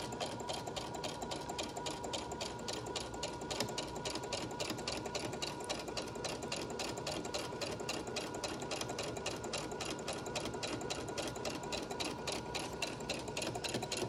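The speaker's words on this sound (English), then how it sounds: "this stitch along this top edge is going to just be straight stitch all the way down" A sewing machine straight-stitches nonstop along the top edge of a fabric face mask, a fast, even, rattling run that holds steady and close the whole time.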